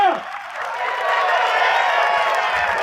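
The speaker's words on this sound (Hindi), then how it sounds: "और एनओपीएस की वो शानदार तालियां पूरे हिंदुस्तान को" Sustained crowd applause and cheering at an old pension restoration protest rally in Haldwani, a dense, steady wash of clapping that swells slightly and holds throughout.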